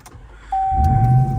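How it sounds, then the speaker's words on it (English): A 2024 Ram TRX Final Edition pickup with a V8 Hellcat engine starts up: a click and a sustained electronic chime, then the engine catches with a low rumble that settles into a steady idle close by. "That will start up the TRX."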